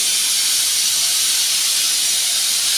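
A pressure cooker of chana dal vents steam in a loud, continuous hiss that holds steady with no break.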